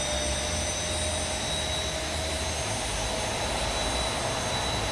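In the X-Plane flight simulator with the Zibo mod, a cold-and-dark airliner's jet engine spools up, giving a loud, steady turbine whine and rumble over a constant roar with no talking.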